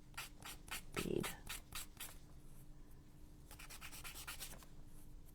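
Repeated rubbing strokes of sandpaper on a bead, a rhythmic series of short scratchy passes close up, pausing briefly midway before resuming at a quicker pace.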